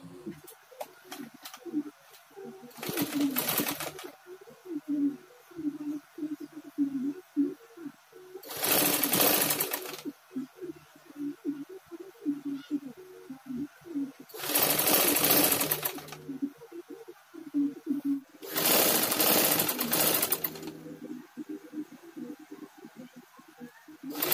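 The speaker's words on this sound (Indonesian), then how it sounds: "Kita jahit pelan-pelan." Sewing machine running in four long bursts while stitching a kebaya sleeve, loud and close, with quieter handling and fabric rustle filling the gaps between runs.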